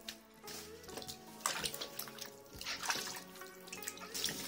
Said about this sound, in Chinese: 把表面的浮沫洗净